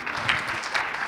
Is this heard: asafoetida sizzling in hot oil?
no